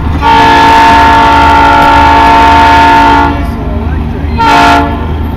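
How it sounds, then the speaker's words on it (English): A GE diesel locomotive approaches on a narrow gauge line, its horn blaring loud and steady for about three seconds over the rumble of the train, then a second short horn blast follows. "Hold on, we got a train coming."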